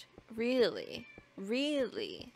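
A cat meows twice, two drawn-out, clear calls nearby, separated by a short pause, with a person speaking briefly in the background.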